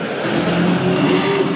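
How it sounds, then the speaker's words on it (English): Engine of a 2011 Dodge Charger in a commercial: a brief, steady, fairly loud motor drone holding at an even pitch, with no voices. "This is the all-new 2011 Dodge Charger, leader of the human resistance."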